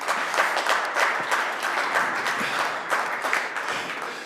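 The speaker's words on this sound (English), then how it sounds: "I think that's worth a big round of applause here" Dense, sustained applause from a press-conference audience at the DTM Sachsenring round, many hands clapping steadily and close with no pauses.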